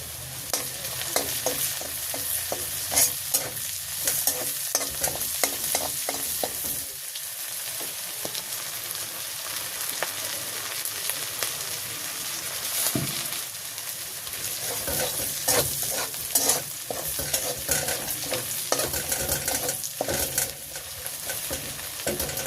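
Whole radhuni seeds fry in hot oil on a gas stove, a steady close sizzle broken by stirring scrapes and clinks throughout.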